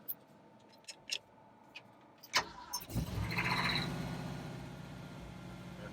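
An engine with a working choke that burns too much fuel, its carburetor due for a rebuild, follows a few sharp clicks with a cranking start, catches, and settles into a steady, close, running idle.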